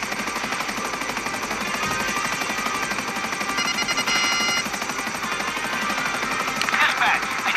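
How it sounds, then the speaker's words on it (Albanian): Helicopter flying in the video game GTA 5, a steady rotor and engine drone holding for the whole stretch at moderate loudness, with some game effects layered over it and no one talking. "Ne mund kemi një avantaj ku se kena i një helikopter të shpejtë dhe nuk mund të kapin dhe."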